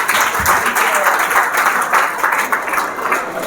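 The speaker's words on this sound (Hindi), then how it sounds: "तालियां होनी चाहिए इनके लिए।" Audience applause at a students' development and smart parenting session, a steady wash of clapping from a crowd, fairly loud and continuous with some voices mixed in.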